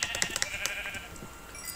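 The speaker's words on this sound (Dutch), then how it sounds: "Schaap raakt ook in paniek." A sheep in the video game Minecraft bleats in a short burst, a nasal wavering cry layered with quick clicking taps, loud and close, then fading.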